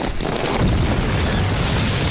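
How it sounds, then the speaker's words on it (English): A caravan blown apart with Pendaflex explosive, a sustained loud roaring boom with heavy low rumble that holds steady for about two seconds. "this caravan is about to go up in a mass of exploding glory"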